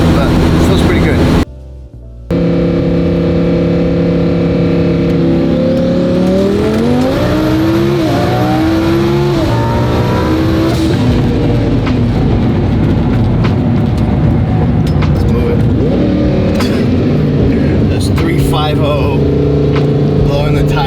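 A 1,200 hp race car with its boost turned down spins its tires at full throttle, a loud, continuous engine roar climbing in pitch for several seconds, with tire squeal throughout and a brief gap near the start.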